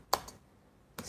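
A few quick keystrokes on a computer keyboard, one sharp click and then another brief pair of taps after a short pause, close and quiet in an otherwise silent room.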